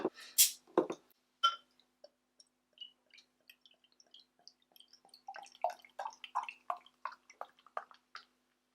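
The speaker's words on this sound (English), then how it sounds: "let's crack it open" A beer can cracks open with a sharp hiss, then beer pours and fizzes in a run of gurgling, bubbly sounds close by.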